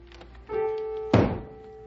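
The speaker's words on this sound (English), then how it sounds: "Maybe if I bang on the ceiling, he'll take the hint and go play ball or something." An old broom knocked once hard against a ceiling, a single loud, close wooden thunk that decays quickly over a low steady tone, after a softer bump just before it.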